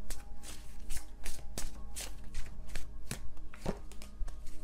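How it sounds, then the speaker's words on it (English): Small tarot card deck being shuffled by hand, giving a run of soft, irregular riffling taps and flicks close to the microphone, with no talking. "I cannot shuffle this deck for my life."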